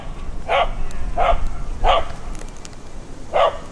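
A dog barks four times in a steady rhythm, each short bark clear and fairly close, with steady low background rumble between the barks.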